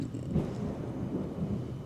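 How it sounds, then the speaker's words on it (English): Thunder from a thunderstorm outside a home kitchen rolls as a low, steady rumble that swells slightly, distant and muffled, with no talking. "We've got a little thunderstorm brewing out there."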